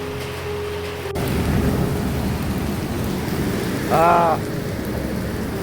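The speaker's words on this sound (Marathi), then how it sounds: "पावसाने साथ अजिबात सोडली नाही आल्यापासून." Steady heavy rain pours down throughout in Mangalore, Karnataka, with a brief tonal hum rising near the end; no talking.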